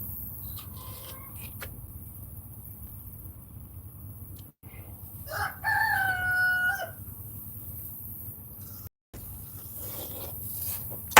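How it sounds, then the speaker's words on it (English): Chickens and a rooster sound in a backyard coop, with a brief crowing call standing out for a couple of seconds over a steady background of low clucking and ambient noise. "Look at my chickens, what they doing."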